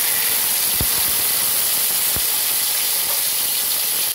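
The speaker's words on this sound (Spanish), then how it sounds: "En una cacerola o en un sartén vamos a colocar otro poco de aceite y vamos a comenzar a dorar nuestra carne enchilada." Chili-marinated meat browning in oil in a pan or pot, a steady, loud broadband sizzle that holds evenly throughout, with two faint low knocks from the cookware.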